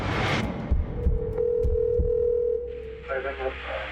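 A steady telephone tone hums through the middle as a phone call connects, with a voice talking over it and faint background sound before and after.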